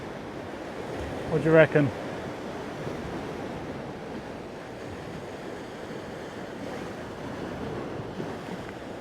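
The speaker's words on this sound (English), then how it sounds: "the surf's picked up right in front of us" Ocean surf breaking on a shallow sandy beach, a steady broadband wash of waves with wind, heard from the shore while someone briefly speaks over it.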